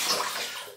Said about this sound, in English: Water rinse and using the Alum Block.